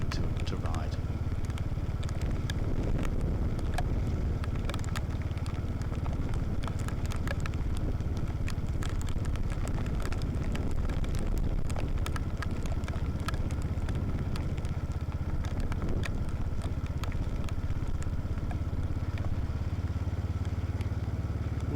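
A Royal Enfield Hunter 350 motorcycle rides on through the rain near Nether Callum, a steady, loud rumble of engine and wind noise filling the whole stretch with faint crackle and clatter.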